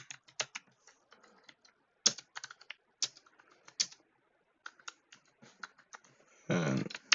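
Someone types on a computer keyboard in short irregular bursts of crisp key clicks with pauses between, ending in a louder clattering burst.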